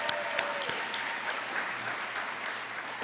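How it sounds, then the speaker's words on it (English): Audience applause at a poetry reading, a soft, steady round of clapping from a seated crowd, fairly distant and even throughout, with a few louder claps at the start. "please give her a round of applause too"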